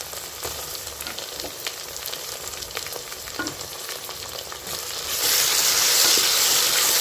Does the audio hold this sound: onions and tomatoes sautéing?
yes